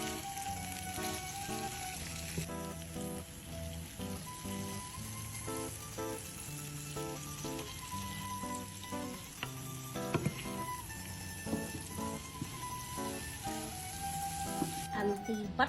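Paneer hits a hot pan alongside minced garlic and masala for a paneer makhani pasta, giving a soft, steady sizzle with faint scraping and clinks of stirring, fairly quiet throughout.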